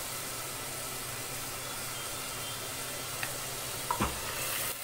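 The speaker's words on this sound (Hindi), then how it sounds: "इसको हमने फ्राई करना है अच्छे से।" Boneless chicken pieces fry in a pan for a creamy lemon chicken, with a faint, even hiss throughout and a couple of brief clinks or scrapes near the end, no voices.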